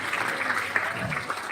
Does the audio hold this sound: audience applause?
yes